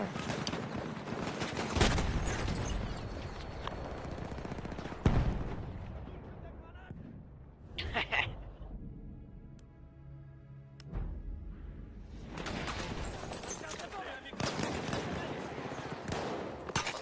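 Rapid gunfire and explosions from the Battlefield 1 video game come in loud, dense bursts at the start. The shooting drops to a quieter stretch with tonal game sounds before heavy firing returns, and excited voices talk over it.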